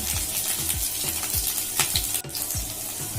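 Chopped eggs fry in a pan in plenty of mustard oil, with a steady close sizzle and regular scraping strokes of a spatula against the pan.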